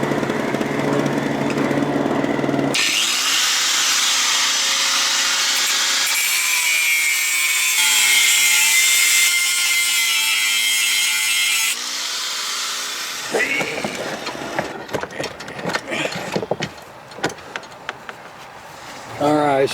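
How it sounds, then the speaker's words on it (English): A grinder takes the corner off a part for a 1989 Evinrude 25 hp outboard motor, a loud, harsh, steady whirring grind lasting about ten seconds, followed by clinks and handling of metal pieces. "get the grinder out and grind that"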